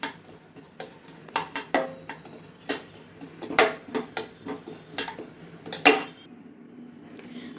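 Poppy seeds dry-roasting in a pan while a metal spoon stirs them, producing an irregular run of close clinks and scrapes against the pan, some sharp and loud, with no voices.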